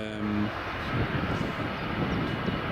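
An EasyJet airliner passing at Edinburgh Airport, a broad engine roar that holds steady and close for the whole stretch, with no clear talking.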